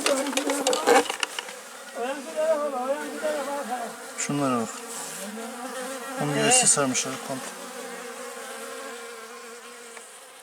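Honeybees in a hive overrun by wax moth give a steady buzzing drone, joined by close passing insect whines, while someone talks over them at intervals.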